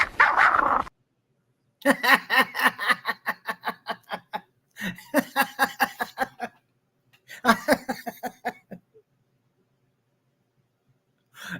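A small Chihuahua yaps in three rapid bursts of short, high, evenly spaced barks, with brief silent gaps between them. The barking is close and clear, and a single faint sound follows near the end.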